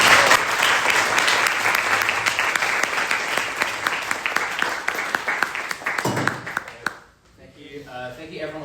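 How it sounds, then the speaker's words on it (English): Sustained, loud audience applause at a Q&A session on faith and suffering, dense claps filling the room and tapering off near the end before a voice begins speaking. "I think it'd be great to give another round of applause"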